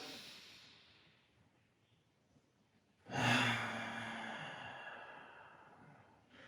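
A deep, drawn-out exhale during a mobility exercise for runners, a close breathy rush starting sharply midway and fading over a few seconds after a quieter breath in, with no talking.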